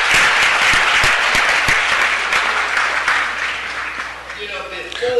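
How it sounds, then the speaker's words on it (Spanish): Loud, dense applause fills a city council meeting chamber and holds for several seconds, with individual claps cutting through. It thins toward the end as a voice begins to emerge. "hacemos un fuerte aplauso"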